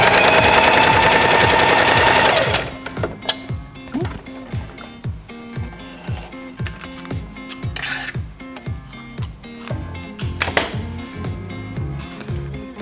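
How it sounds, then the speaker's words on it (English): A sewing machine runs a short line of test stitches on a small scrap of fabric for a shirred dress, its rapid needle thumps pulsing steadily up close after a loud opening burst, with no talking. "take this little piece of fabric and run a couple of stitches to see how it's gonna look like"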